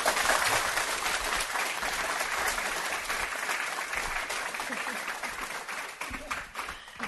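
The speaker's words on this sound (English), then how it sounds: "I'd like to give a round of applause for our speakers." An audience at a Churchill Club clean-energy panel applauds the speakers with sustained, even clapping from a full room that eases slightly toward the end.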